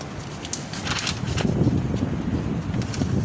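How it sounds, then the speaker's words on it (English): Wind blowing across a microphone outdoors, a steady rumbling buffet that swells slightly and stays loud throughout, with no speech. "Oh, what a relief to get the wind."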